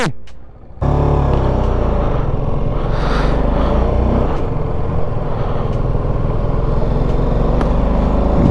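BMW G310RR motorcycle idling at a high-altitude snowy mountain pass near 15,500 feet, engine hot with its cooling fan running; a loud, steady engine drone with a constant fan whir begins abruptly after a short quiet start.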